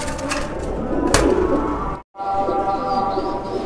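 High-flying racer pigeons coo and call in a continuous dense flock chorus, loud and close, with a brief dropout midway before the cooing resumes steadily.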